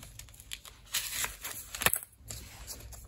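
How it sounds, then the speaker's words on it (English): A strip of 100 grit sandpaper is cut in two with scissors, giving a few short crisp snips and rasps close by, with one sharp louder cut near the middle and light rustling around it. "I cut a strip of some 100 grit sandpaper. And I'm going to cut it in two."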